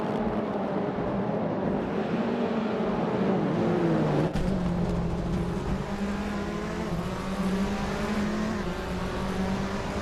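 Several race cars in a racing video game accelerating hard off the start line, engines droning and rising in pitch together in a steady loud roar, with a sharp crack partway through and no talking.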